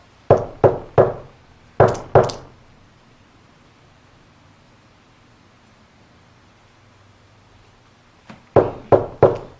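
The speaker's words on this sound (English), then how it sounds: "I'm gonna throw this knock out one more time" Knocks on a door or wall inside a reputedly haunted gambling museum in Kentucky, two quick patterned sets of three and two sharp raps, close and loud, then a long quiet stretch of room noise before another patterned set of four knocks.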